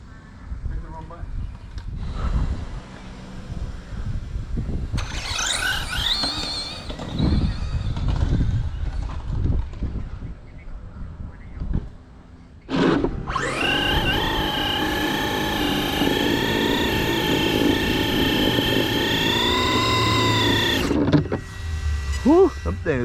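An RC drag car runs on J Concept belted tires to break them in, its electric motor giving a high, steady whine for several seconds after some shorter bursts, with people talking nearby at the start.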